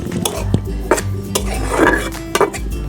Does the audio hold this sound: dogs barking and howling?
no